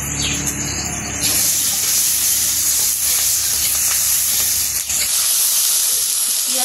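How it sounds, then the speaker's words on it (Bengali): Onion and green chili fry in a pan with a loud, continuous sizzling hiss that swells after the first second and stays steady, heard up close. "পেঁয়াজ কাঁচামরিচ ভাজা হয়ে গেছে"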